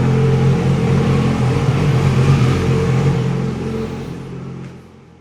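A 2006 Yamaha R6 motorcycle engine with a newly repaired sticky throttle revs loud and close in a sustained, steady roar that fades away near the end.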